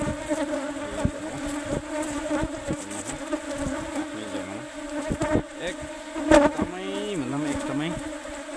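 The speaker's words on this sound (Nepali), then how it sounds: "मौरी पनि एकदमै एग्रेसिभ हुन्छ" Swarming honeybees producing a dense, continuous buzz close by, with individual bees whining past as their pitch rises and falls, and faint talk underneath.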